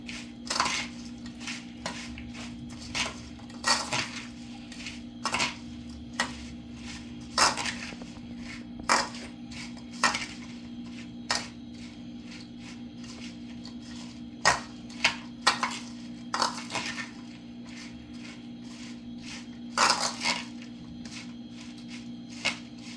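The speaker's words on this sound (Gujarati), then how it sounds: "હવે એને મિક્સ કરી દે।" A spoon stirs chilli pickle in a bowl, mixed with turmeric, split mustard seeds and oil, giving repeated scraping clinks and taps in an irregular rhythm, close and moderately loud, with no talking.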